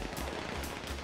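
Gunfire in GTA 5 Online that resembles fireworks, a quick series of muffled pops at an even rhythm, fairly faint and heard alone.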